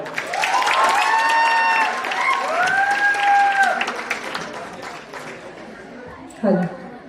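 Audience applause with cheering and crowd chatter after a stage performance at an art club event, filling the first few seconds with tonal voices and whoops over the clapping, then thinning out toward a brief burst near the end.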